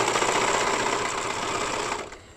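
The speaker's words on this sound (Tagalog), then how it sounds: "Itong kaya naman ng surging machine na ito, mayroon siyang blade, may cutter siya" A serger sewing machine with its blade and cutter running in one loud, steady, close buzzing drone that cuts off near the end.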